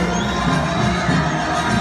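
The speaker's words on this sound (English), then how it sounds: "Take that applause as he makes his way around." A loud arena crowd cheers and applauds as a bronze medallist makes his way around at a Potters live event, a dense, continuous roar of voices and clapping throughout.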